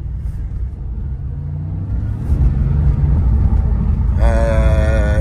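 A Porsche Cayenne engine rumbles low and close, then swells into a louder revving roar as it accelerates, with no talk over it.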